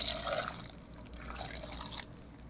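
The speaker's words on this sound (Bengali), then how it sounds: "একটু পানি লাগবো, পানি দিয়ে দিলাম।" Water poured into a blender jar holding spices, a short close splashing pour with dripping that runs steadily for a couple of seconds.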